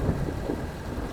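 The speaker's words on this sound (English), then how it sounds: "here comes the rain and thunder" Steady rain with a low thunder rumble in the city-building game Cityconomy, a broad continuous wash at even loudness with no distinct thunder crack in this brief stretch.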